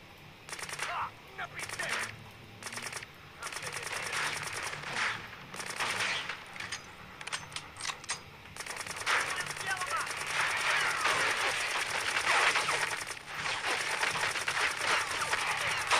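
Rapid shotgun blasts and automatic gunfire in the video game Black played on a PS2 emulator, dense repeated bursts throughout with a player's voice talking over the combat.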